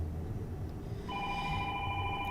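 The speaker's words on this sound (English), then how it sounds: "I'm not answering that phone." A telephone starts ringing partway through, a steady electronic ring tone rising over a low background hum, moderately loud and without talk.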